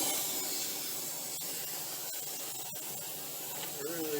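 Aerosol can spraying rust-protection coating up inside a truck's rear frame rail in a garage, a steady close hiss running throughout with a few brief clicks and breaks.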